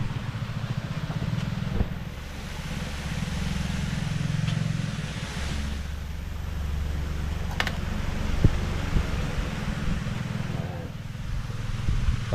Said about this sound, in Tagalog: pagka po basa ang kalamansi, meron po tayong blower.